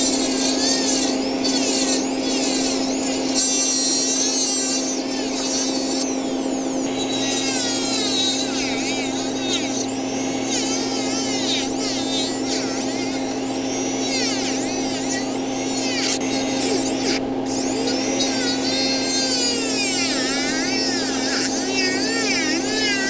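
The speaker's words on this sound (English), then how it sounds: "So what we'll be doing now is cutting off the back tooth on either side, converting this to a 10-tooth bridge." A dental power tool cuts through the back teeth of an implant overdenture, a continuous high buzzing grind with shifting pitch over a steady electrical hum, close and loud the whole time.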